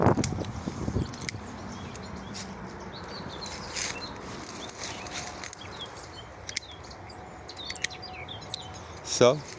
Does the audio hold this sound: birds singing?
yes